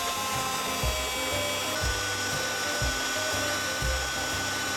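An electric mixer whips room-temperature butter with powdered sugar for a cake, a steady loud motor whine with a rhythmic clacking beat of beaters hitting the bowl about once a second.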